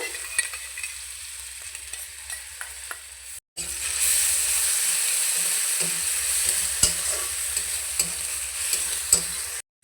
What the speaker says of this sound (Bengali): কলমি শাকটা ভেজে নেব